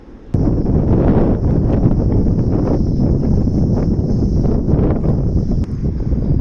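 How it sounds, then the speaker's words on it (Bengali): Strong wind blasts directly into the microphone, a loud, constant low roar that starts abruptly and keeps up throughout. "দেখছেন নি কি হাওয়া হয়েছে"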